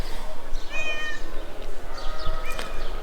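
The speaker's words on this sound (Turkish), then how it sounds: "Emevi Camisi'nde kediler bizi karşıladı" A cat meows a few times, thin and drawn-out cries heard fairly close over a steady background hum, with no talking, in the courtyard of the Umayyad Mosque in Damascus.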